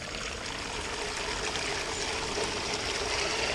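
A highbanker pump used for gold prospecting at home is started and water flows steadily, a constant rushing stream that stays loud and even throughout with no talk.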